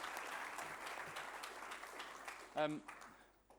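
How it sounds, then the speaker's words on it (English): Audience applause at an opening ceremony, a broad steady patter of many hands heard at a moderate distance, briefly interrupted near the end by a short voice before the clapping thins out and fades. "Please give him a warm round of applause."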